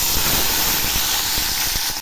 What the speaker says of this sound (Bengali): এখন আমি দিয়ে দিচ্ছি একটা টমেটো টুকরো।